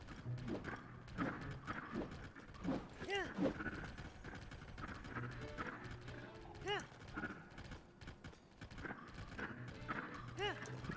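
Horse hooves clip-clop in a steady gallop rhythm while riding in The Legend of Zelda: Tears of the Kingdom, with occasional whinnies, game music and someone talking over the hoofbeats throughout.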